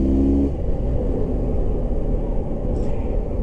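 A Benelli Tornado 302 motorcycle being ridden on the road, its engine giving a steady rumbling drone close by with a brief higher whine at the start, alone without talk.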